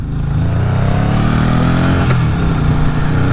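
A Yamaha XS750 motorcycle engine with freshly cleaned carburetors idles around 2,000 RPM, a steady close throaty drone with a slight rev rise and a faint clatter midway.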